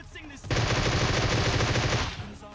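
Sustained automatic gunfire in PUBG Mobile, a loud continuous burst of rapid shots that starts abruptly after a brief quiet moment and runs for about a second and a half before cutting off.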